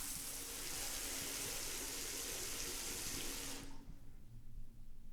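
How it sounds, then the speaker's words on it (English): A shower runs in the video game Danganronpa Mauve, a steady, loud hiss of spraying water that fills the first three and a half seconds and then shuts off, leaving quiet low rumble. "Let me take my 5th shower of Danganronpa Mauve."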